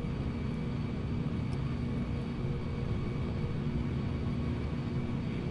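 Engines of a PMDG Boeing 747 at takeoff power in the FSX flight simulator, a steady, dense, unbroken roar with a constant low rumble and faint high whine, loud and even for the whole stretch.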